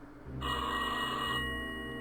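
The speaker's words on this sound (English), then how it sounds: "Oh, phone's ringing." A telephone rings in the video game Rusty Lake Hotel, a steady electronic bell tone lasting about a second over a quiet low ambient game background.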